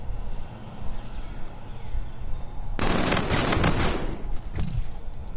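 Loud, sustained volley of rapid gunshots in a video game aimed for a headshot. The gunfire erupts suddenly after a stretch of quieter background noise and continues in dense bursts.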